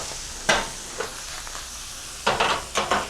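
Sausage browning in a pan, a low steady sizzle broken by a few sharper bursts of frying crackle, close and moderately loud with no voices.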